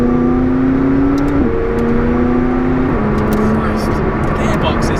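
McLaren 675LT engine pulling hard in normal mode, a loud close droning tone that climbs steadily and drops at two quick, instant gear shifts, with people talking over it inside the car.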